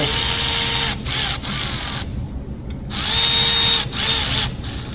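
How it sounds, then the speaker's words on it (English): A power drill whirs in short bursts, stopping and starting several times with brief pauses, close and loud as it drives screws. "if you're going in with a power tool"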